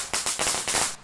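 A rapid string of firecracker pops in the horror game Shadow Corridor, about six sharp, evenly spaced cracks in just over a second, loud and close.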